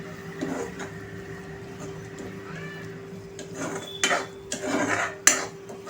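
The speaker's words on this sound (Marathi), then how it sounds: "व्यवस्थित मिक्स करूया." Mashed eggplant bharit mixed with chopped coriander in a pan: metal spoon scrapes and clinks against the pan in uneven bursts, growing louder toward the end over a faint steady background hum.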